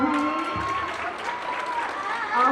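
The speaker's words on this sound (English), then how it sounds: "Let's give her a hand." An audience at a school event applauds its event chair, steady sustained clapping from a crowd filling the moment, with a voice audible faintly over it.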